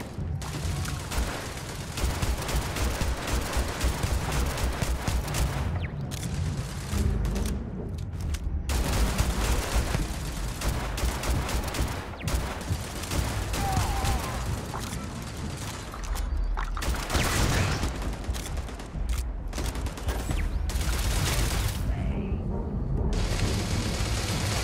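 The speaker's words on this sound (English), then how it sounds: "The turrets are on to me." Turrets open fire in the Starfield video game, a dense, continuous barrage of rapid gunshots and booming impacts that stays loud and close throughout, with only brief dips between bursts.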